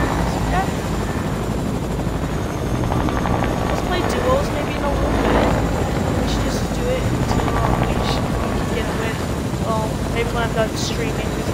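A Fortnite helicopter drones with a steady rotor whir throughout, under a player talking over it.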